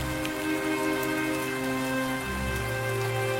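Heavy monsoon downpour drums steadily on surfaces in a village, a dense continuous hiss of rain with a low droning hum underneath and no talking.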